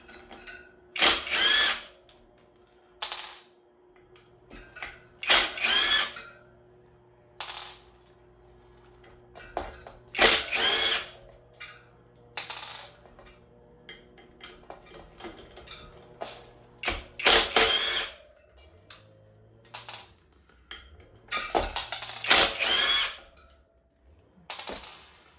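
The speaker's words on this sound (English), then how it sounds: "if you're using a driver, just make sure you got a good quality bit and it's definitely all the way down" A power driver backs out screws from an ebike hub motor in repeated short whirring bursts with ratcheting clicks, each burst separated by pauses, close and distinct over a faint background hum.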